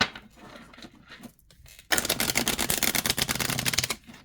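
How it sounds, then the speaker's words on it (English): A new Fairy Tale Tarot deck being shuffled by hand, a quiet soft rustle at first, then a loud, dense burst of rapid card riffling lasting about two seconds before it stops abruptly. "let's see how it shuffles."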